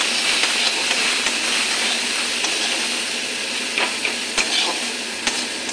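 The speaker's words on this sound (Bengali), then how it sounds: "এটা মিশিয়ে নিই" Spice masala with salt and turmeric is stirred in a hot pan, making a loud, steady sizzling hiss with occasional scrape accents, close by.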